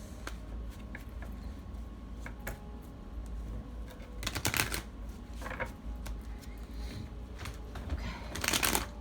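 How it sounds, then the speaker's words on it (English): A deck of tarot cards is shuffled in short bursts of crisp riffling and soft flicking, close and fairly quiet, with brief pauses between and a louder riffle near the end. "Let me get these shuffled up really well."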